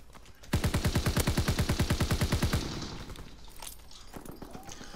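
Rapid automatic gunfire in the Call of Duty WW2 game, a fast burst of about two seconds of evenly spaced shots, loud and close, trailing into softer scattered battle noise.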